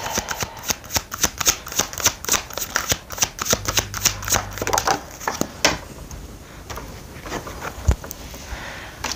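Tarot cards shuffled and drawn: a run of crisp, rapid riffling clicks that thins into a few separate snaps and slides, close and fairly loud, with no talk.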